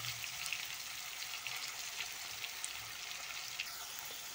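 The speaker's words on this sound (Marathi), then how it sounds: "छान अशा भाज्या परतून आणि शिजून घ्यायच्या आहे आपल्याला" Tomatoes, bell pepper and other vegetables sauté in a pan, giving a soft continuous sizzle with faint crackles and light pops, moderately quiet and steady with no voices.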